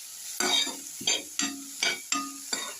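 Tomatoes lightly frying in a pan are stirred in six quick, evenly spaced strokes, each a short scrape with sizzle, close and fairly quiet.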